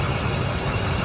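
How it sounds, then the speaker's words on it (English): Ford F150 with a 5.4 or 4.6 two-valve V8 idling with a continuous misfire, a dense rough steady rumble heard close up, loud and without talking. "and now it's a continuous misfire."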